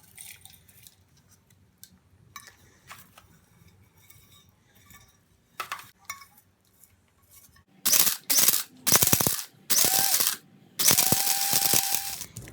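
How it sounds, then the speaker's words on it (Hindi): Electric grinder pulverizing dried beetroot into powder, starting after quiet clinking and handling sounds with several loud bursts of harsh whirring, short pulses separated by brief pauses. "हम इसे भी पीस लेंगे"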